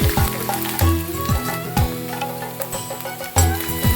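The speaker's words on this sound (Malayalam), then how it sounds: "എണ്ണ നല്ലപോലെ ചൂടാകുമ്പോൾ ആദ്യം ഇഞ്ചി അരിഞ്ഞത് ഇട്ട് കൊടുക്കാം" Chopped ginger frying in hot coconut oil in a small uruli for Onam ginger curry, a busy crackling sizzle with popping clicks, close and fairly loud, with music underneath.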